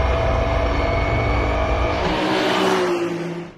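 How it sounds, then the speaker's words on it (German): Race cars accelerating hard on a racetrack during a 15-lap team endurance race, reaching up to 260 km/h; a loud, sustained engine roar with rising revs that fades away at the end. "Die Autos beschleunigen auf Geschwindigkeiten von bis zu"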